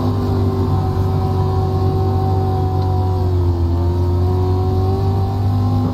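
A dirt street stock car engine held at full throttle on the Bristol dirt track in iRacing, a loud, steady, droning roar with a slight pitch dip midway and no talk over it.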